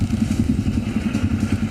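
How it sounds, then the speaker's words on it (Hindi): Motorcycle fitted with a loud modified silencer on a road, its engine throbbing in a steady, rapid low pulse that stays close and loud throughout with no voices. "जहां कानफोड़ू साइलेंसर लगाकर लोगों को परेशान किया जाता है"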